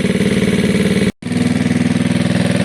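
A Gilera DNA scooter engine with freshly re-jetted carb runs steadily near at hand, a rapid even thrum that cuts out for a split second before picking straight back up.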